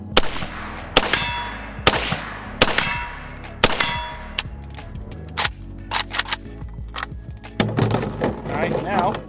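Rifle shots ringing an Evil Roy steel target made by Shoot Steel, zeroing a Cyelee T10 red dot: about eight sharp bangs, each followed by a metallic clang, spaced irregularly over several seconds, loud and close.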